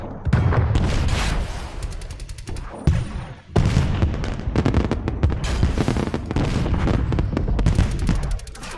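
Explosions in a video game, a dense run of booming blasts and crackling bursts that are loud and close, with a short gap before the barrage resumes and continues steadily.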